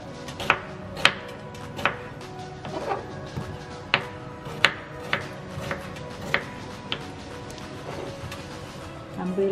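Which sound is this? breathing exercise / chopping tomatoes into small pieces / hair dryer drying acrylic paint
chopping tomatoes into small pieces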